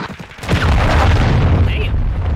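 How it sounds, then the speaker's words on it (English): A cruise missile strike in Modern Warfare 2 lands as a heavy, booming explosion with a deep rumbling tail that lingers loudly for a couple of seconds amid game sounds. "Friendly cruise missile approaching target."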